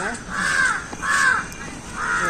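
A crow caws loudly and close by, three drawn-out harsh calls evenly spaced with short gaps between them.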